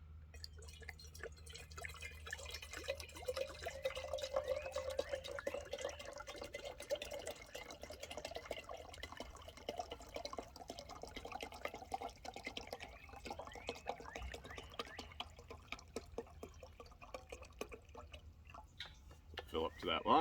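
Tap water pours steadily into a Jetboil Mighty Mo pot at a campsite, filled up to its 32-ounce line, a continuous trickling and dripping that runs for the whole stretch under occasional talk.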